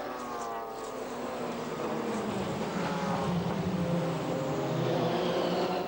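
Race cars at the 1995 Le Mans 24 Hours pass the Dunlop chicane in a loud, continuous roar, their overlapping engine notes rising and sweeping as the pack goes by, with no talking.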